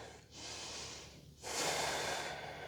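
Two long, audible breaths during a yoga warm-up: a breathy inhale, a short pause, then a fuller, louder exhale. The breaths are close to the microphone and there is no talk.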